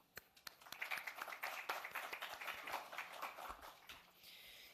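An audience at a global investors summit for Uttarakhand breaks into dense, sustained applause, many hands clapping together at moderate volume for several seconds before thinning out.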